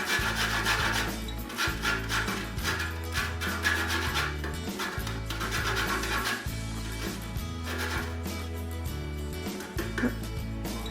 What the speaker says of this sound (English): A bit of lemon zest